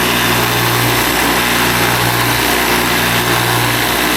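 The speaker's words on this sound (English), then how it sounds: "we're going to go over here to the grinder, make it happen" A bench grinder runs steadily and loudly, grinding clearance on a Suzuki DRZ400SM wide-ratio transmission part, a continuous high whine with low hum and no breaks.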